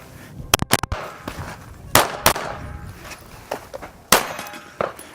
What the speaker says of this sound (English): I'm just going to put one hit, one shot at that steel just to keep times even.